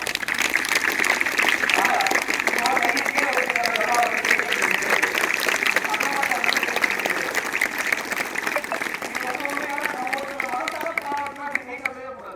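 Sustained applause from a crowd, steady dense clapping that fills the whole stretch and tapers slightly near the end, with some voices mixed in.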